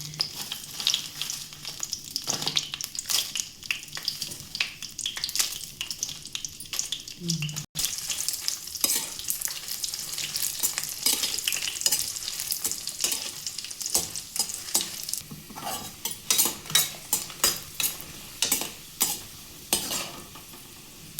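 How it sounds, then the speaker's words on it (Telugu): Dried red chillies frying in oil in a pan for gonguura chutney, a crackling sizzle with many sharp pops and stirring scrapes, growing more spattery toward the end. "తయారు కాడదికి ఎండుమిరపకాయలు వేయించుకుందాం"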